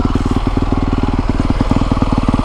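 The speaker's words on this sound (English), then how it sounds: "Currently letting the bike warm up just a little bit" A 2020 Honda CRF450R dirt bike idles while warming up, its single-cylinder engine thumping in a steady, rapid pulse, loud and close throughout with no talk over it.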